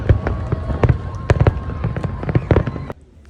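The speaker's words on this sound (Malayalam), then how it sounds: "അതായത് കൃത്യം 9 മണിക്ക് പടക്കം പൊട്ടൽ തുടങ്ങി" Fireworks burst in a park at night during an Eid celebration in Saudi Arabia, a rapid run of sharp bangs and crackles that stops abruptly near the end, with faint crowd noise beneath.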